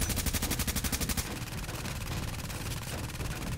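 Automatic weapons fire in a firefight in The Division's Dark Zone: a rapid, evenly spaced burst of loud shots for about a second, then a dense, sustained rattle of overlapping gunfire.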